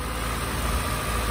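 A 2012 Subaru Impreza four-door wagon with a 2.0 liter engine, manual transmission and all-wheel drive idles steadily up close, a smooth, even low rumble with no revving.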